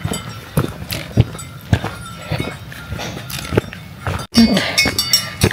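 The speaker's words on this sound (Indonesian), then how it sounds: "Bener-bener di kanan kiri jalur banyak sapi tuh" Cows wearing bells graze along both sides of a mountain trail, irregular clanks and dull knocks sounding close by amid footsteps and rustling.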